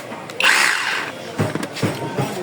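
Makita cordless hammer drill gives a short burst of whining rotation, close and fairly loud, followed by handling clunks and knocks as it stops.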